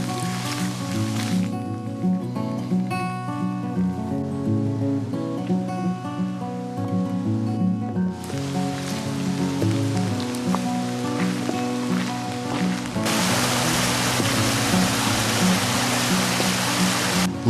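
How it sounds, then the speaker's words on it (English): Rain falls steadily in the Scottish Highlands, a constant close patter on the ground and surroundings that swells into a heavier, denser hiss toward the end, with other mixed sounds layered underneath. "the rain is starting to pick up"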